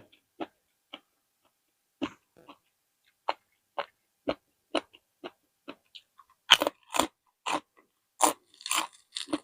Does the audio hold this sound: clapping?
no